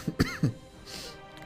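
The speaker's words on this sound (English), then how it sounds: "Causes me to cough all the time." Three sharp dry coughs come close together in the first half second from a man recovering from a cold, followed by quiet room tone.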